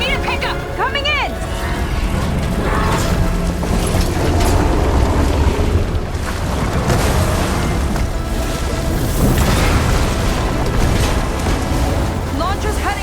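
A heat sink blows up in Horizon Forbidden West: Burning Shores, loud rumbling blasts and booming debris across a continuous dense roar of machine and water noise, with voices talking now and then over the din.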